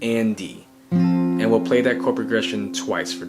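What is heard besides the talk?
No everyday noise stands out behind the speech.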